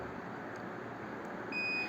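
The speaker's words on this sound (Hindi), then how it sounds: "तो एक बीप के साथ में।" An Okaya home inverter gives a steady electronic beep after its button is held for five seconds, a thin tone arriving near the end over constant fan-like hiss.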